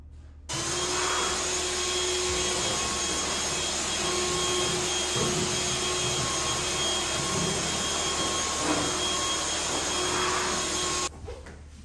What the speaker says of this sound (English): If you don't have a handheld vacuum and you have a lot of plants, I highly recommend it